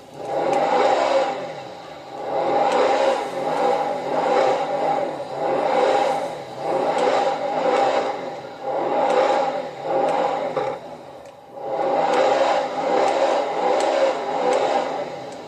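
A Bugatti hypercar engine revs repeatedly in loud, evenly spaced surges, each swelling and falling back, with a brief lull before the last two pulls, heard alone without talk.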